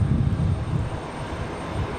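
An American Airlines Airbus A321 jet airliner rumbles steadily at an airport, a continuous low engine roar with a broad hiss above it and no speech.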